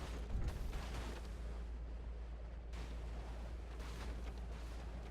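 Weapon fire in a MechWarrior Living Legends battle between two teams of mechs, with LRM 20 missile launchers on a Vulture and a Thor mech; a steady rumbling din of distant shots and bursts, with a sharp blast near the start and a louder surge midway.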